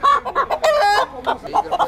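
A rooster, about to be weighed for a desi murgh karahi at a roadside driver hotel in Hasilpur, gives a short burst of loud, close, choppy clucks and squawks, without any talk.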